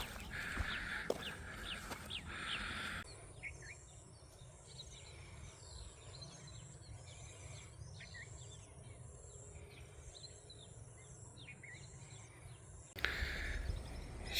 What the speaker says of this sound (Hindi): टटीली बोलदी पई ने जी।